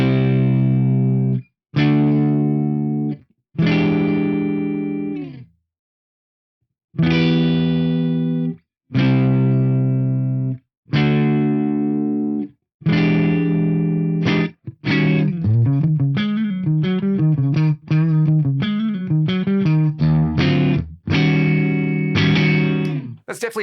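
Distorted electric guitar chords played through a Fractal FM3 modeler on the neck humbucker in standard tuning: several loud strummed chords ring out separated by short gaps, then give way to a busier run of continuous chord riffing.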